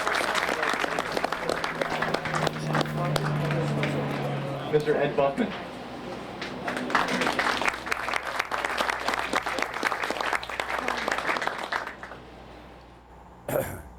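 Audience applause at a World War II Weekend event welcoming a WWII veteran who served aboard the USS Missouri, a broad wash of clapping from a crowd running under a voice over a public address.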